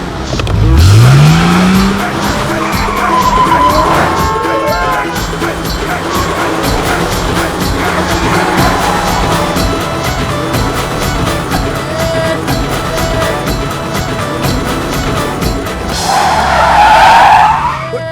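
A car races and skids in a comedy action film scene, with loud tire squeals at the start and again near the end and a steady engine roar in between.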